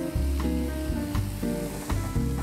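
Garlic frying golden in a pan, a close, steady sizzle with faint scraping touches and a low hum running beneath it.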